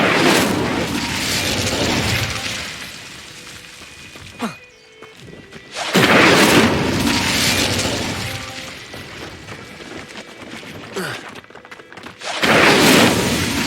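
The Incendio fire spell is cast in Hogwarts Legacy, giving loud roaring whooshes of flame in three big bursts separated by quieter rumbling and brief crackles, no talking.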